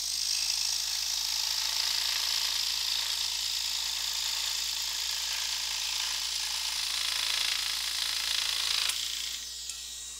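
A scroll saw cuts a wooden intarsia piece with a steady, close, high buzzing whine that stops near the end as the blade frees the piece.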